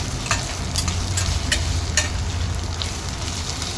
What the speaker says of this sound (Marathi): आता आलं लसूण पेस्ट टाकले